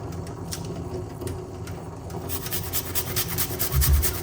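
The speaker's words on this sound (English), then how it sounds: "Going to just grate a nice little piece of a ginger." A small piece of fresh ginger rubbed against a grater, giving a low, rough, repeated rasping that grows louder toward the end, close up with no talking.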